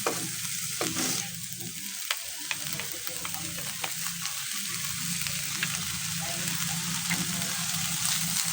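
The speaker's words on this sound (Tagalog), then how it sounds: "halo-haloin lang natin para maigisa ng husto" Chopped banana heart sautés in a pan, stirred with two spatulas; a continuous sizzle runs throughout with repeated scraping and clinking of utensils, close and with no talking.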